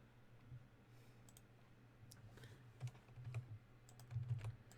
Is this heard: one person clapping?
no